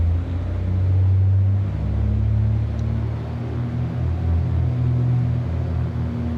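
Twin propeller engines of a Beechcraft Baron 58 in a flight simulator, a low steady droning hum with a rumbling undertone that swells slightly, heard alone without talk.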